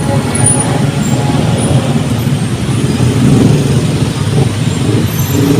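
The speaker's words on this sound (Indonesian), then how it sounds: "Ini arus kendaraan daerah sini padat banget teman-temannya." Dense evening traffic jam on a busy city street in Makassar outside a shopping mall, a steady loud wash of car, bus and truck engines with hiss of an air brake, continuous throughout.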